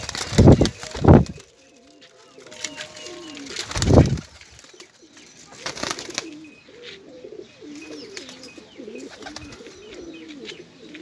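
Pigeons coo repeatedly close by at a pigeon loft, their soft rolling calls continuing throughout, with a few loud thumps and bursts of wing flapping early on.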